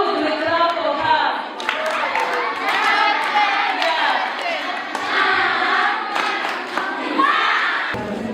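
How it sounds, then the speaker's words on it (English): A group of students claps for a classmate during a mental health awareness and career guidance session, the clapping mixed with excited cheering and shouting voices that carry through most of the stretch. "Good, we clap for her."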